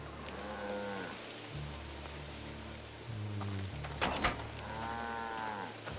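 Cows mooing in the video game A Plague Tale: Requiem, several long, low moos heard close by, one after another, over a steady bed of rain.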